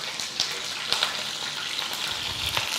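Beef fillet sizzling in melted butter in a pot: a steady close frying hiss with small irregular pops and spatters running through the whole stretch, no voices.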